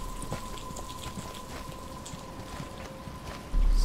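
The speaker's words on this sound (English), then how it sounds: "But it's starting to rain." Steady rainfall hisses across a dark outdoor scene in Batman: Arkham Asylum, with scattered drops pattering, a faint tonal hum underneath and a sudden loud burst of noise at the very end.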